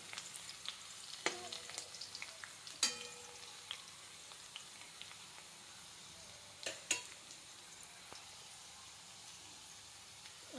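Green chillies frying in a pan with potatoes for sabudana khichdi, a soft steady sizzle with scattered crackles and light clicks of a spoon, close and fairly quiet, no talking.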